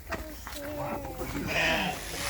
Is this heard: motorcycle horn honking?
no